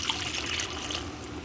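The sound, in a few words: water being poured into a pot of rice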